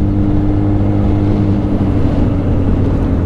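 Several motorcycles idling and rumbling together at the start of a group run in Ayrshire, four bikes in all, a steady, loud, continuous low engine drone with no talk over it.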